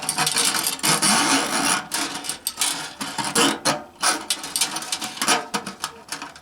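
Strings coming off a 1930 National Triolian guitar, a close run of quick, uneven metallic clicks and ratchety ticks, busy at first and then thinning into scattered bursts, with no speech.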